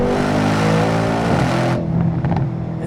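A facelifted Mercedes C63S on a race track, its engine revving hard in a loud, building roar that cuts off abruptly, leaving a quieter lingering rumble and faint clicks.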